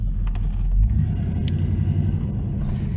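Deep, steady engine rumble from a 1979 Chevrolet Camaro Sport Coupé, a low throaty idle heard up close with a slight swell early on and no talking.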